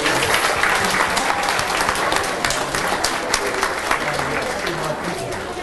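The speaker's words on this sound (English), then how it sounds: "Can we give our graduates one more round of applause" Audience applause for graduates at a school DARE ceremony, sustained crowded clapping filling the room at full strength, with faint voices mixed into the ovation.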